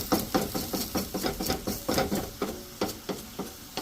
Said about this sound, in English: Stir, stir, stir.